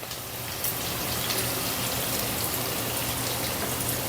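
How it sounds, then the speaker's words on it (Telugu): Onions fry in a pan for a Telugu okra masala curry, with a dense, steady crackling sizzle that rises after a brief moment and carries on with no talk. "ఉల్లిపాయ వేగుతుంది కదా"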